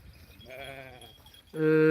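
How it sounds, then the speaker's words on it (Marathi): Two goat bleats, the first a moderate wavering call, the second a louder, steady, close-up bleat after a short pause, from a sheep and goat flock on the move. "आता आपली बकरी सोडलेली"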